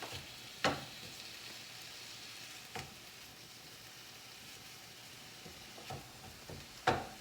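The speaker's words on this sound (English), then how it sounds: "let them sizzle for a bit. Back again, they are sizzling nicely" Soft, steady sizzling of mushrooms in a pan with a few sharper clinks or stirring taps scattered through, fairly quiet and close.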